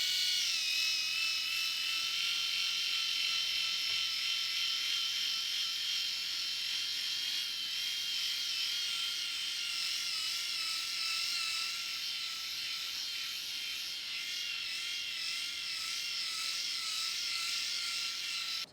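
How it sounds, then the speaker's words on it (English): An electric shaver running continuously across a head, a steady high-pitched buzzing drone that holds for the full stretch with slight wavering as it moves over the scalp, close and fairly loud. "I want you guys to be able to see how good this shaver works"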